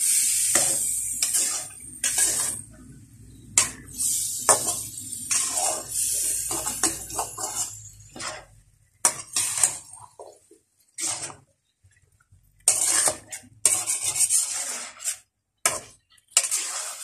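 Mixed vegetables with spices being stirred in a pan over a low flame, giving repeated scraping and rubbing strokes with short gaps between bursts, close and fairly loud with no talking.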